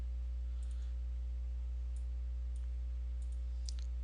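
Several crisp, isolated computer mouse clicks selecting items in estimating software, spaced irregularly over a steady low electrical hum.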